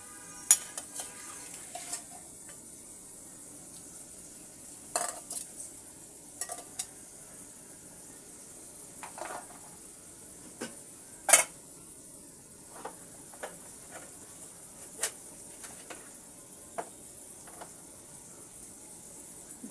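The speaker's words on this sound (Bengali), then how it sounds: "এখন দিয়ে দিব আমি চিংড়ি মাছ।" Prawns being stirred and fried in a pan while cooking kochur loti, with a soft continuous sizzle and hiss and scattered sharp clinks and scrapes of a spoon against the pan, with no talking.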